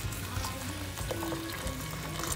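Boiling water poured over rice with cloves and salt for Indian-style biryani, giving a steady close wash of liquid hiss and trickle with no talking.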